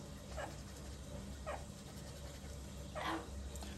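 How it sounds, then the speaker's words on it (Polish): A pet dog indoors gives three short whimpering yelps spaced about a second apart, close and moderately loud over a low steady room hum, with no speech. "Przestań szczekać, ci mówię."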